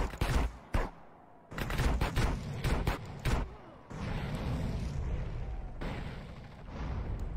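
Gunfire and bazooka explosions in Grand Theft Auto San Andreas on PC, with a few sharp cracks followed by heavy, rumbling booms that carry on loud and dense for several seconds.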